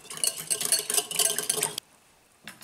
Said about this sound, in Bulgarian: И разбъркваме с телена бъркалка да се смеси всичко добре.